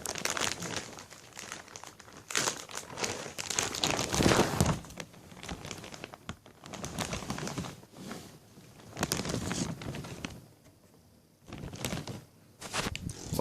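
Plastic and cardboard packaging around an MSI motherboard crinkling and crumpling as it is unwrapped up close, in irregular bursts with brief pauses and occasional thunks.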